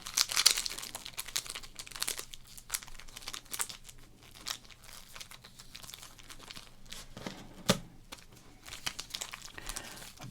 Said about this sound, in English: Bowman does have a little bit of that classic crinkle